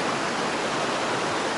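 A woodland creek flows in a steady, dense rush of water, close and fairly loud, with no voices or other sounds over it.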